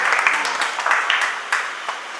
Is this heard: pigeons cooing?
no